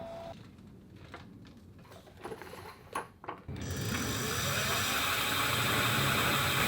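Electric motor left running on a pedal-powered motorhome bike fitted with solar panels, a faint uneven whir at first, then a steady, louder mechanical hum from about halfway on.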